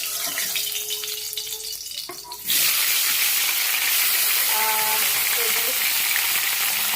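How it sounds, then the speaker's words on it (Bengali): Previously fried fish is fried again in a pan, first quiet with a few faint clinks, then a sudden loud, close sizzle that holds steady to the end with no talk. "এই যে কালকে মাছ ভেজে রেখেছিলাম, আজকের আবার একটু ভেজে নেবো।"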